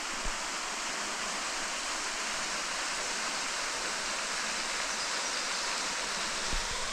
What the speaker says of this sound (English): ended on another picturesque waterfall with a simple name, Lower Falls